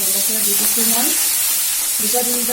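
Onions and green chillies with two bay leaves sizzle steadily in a hot pan, a close, continuous frying hiss with no break, while a voice talks over it.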